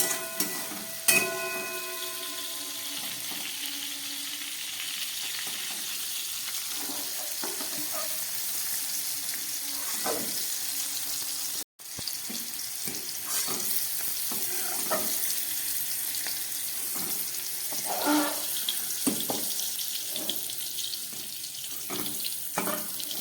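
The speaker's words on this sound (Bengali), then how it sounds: "গ্যাসটা একদম কম করে প্রায় 3 মিনিটের মতো বিনসগুলো ভেজে নিলাম" Green beans frying in oil in a pan over a very low gas flame, a soft, even sizzle that continues throughout with faint stirring scrapes and no voices.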